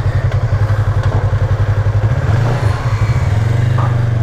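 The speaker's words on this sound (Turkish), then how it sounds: "motosikletini aldık. Ufaktan bir turlama yapıyoruz." A motorcycle engine revs up and pulls away, loud and close, with a steady pulsing idle that climbs as the bike rides off, plus some clatter and thumps.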